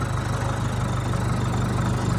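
A tractor engine idles steadily nearby on a farm, a loud, even low chugging with a regular pulse that holds throughout, no voices.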